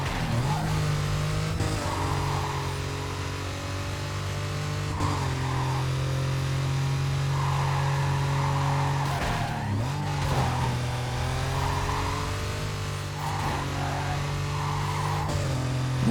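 A car races in Need for Speed Carbon, its engine holding a loud, steady drone that dips and climbs with gear shifts, with tire noise layered over it throughout.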